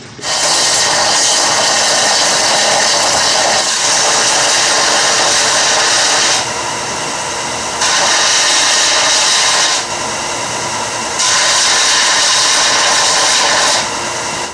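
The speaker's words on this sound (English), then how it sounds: "now that we've cut the handle off, we need to sand this little area flush" A power sander grinds a railroad spike knife flush where the handle was cut off. The loud, close, steady whine drops briefly a few times as the tool eases off and comes back on. No voices.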